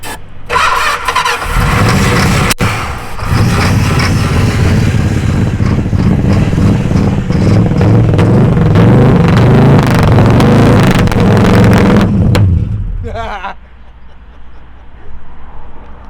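An old bagged wagon's engine cranks and catches, then runs loud and rough close by for about ten seconds before shutting off, with people talking over it.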